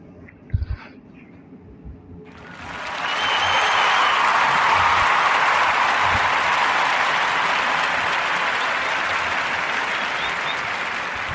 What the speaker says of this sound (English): So clap it up for the Bowtie Flow.